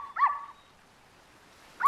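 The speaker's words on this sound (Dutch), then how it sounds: "Die boef van een hond van mij, Cinnamon, is bovenop de kauwgomballenmachin" A cartoon dog whimpers and yips in a short sharp burst near the start, then falls quiet before another brief yelp at the very end, with no talk over it.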